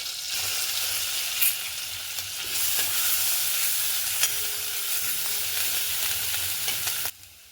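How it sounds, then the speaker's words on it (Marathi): Ginger garlic paste fries in melted butter and ghee, a dense, steady sizzle close by that swells midway with occasional utensil taps, then cuts off abruptly near the end; no talking. "आता याच्यामध्ये सुरुवातीला आपण आलं लसूण पेस्ट टाकून घेऊया"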